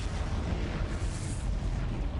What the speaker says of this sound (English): More exploding things going on.